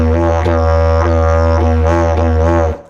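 A didgeridoo plays a simple do-do-wah rhythm alone, a loud, close, continuous low drone with rhythmic pulses repeating about every half second before stopping abruptly near the end.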